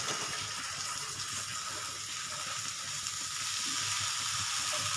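Ridge gourd frying in a pan as it is stirred, a steady, dense sizzle close by, holding even throughout with faint stirring underneath and no talk.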